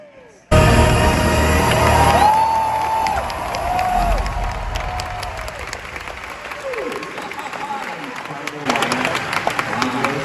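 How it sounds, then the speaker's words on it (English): A huge crowd of Star Wars fans at a convention in Japan cheers and applauds, loud sustained clapping and shouting that begins abruptly, fades somewhat, then rises again, with voices calling out. "This is a huge crowd."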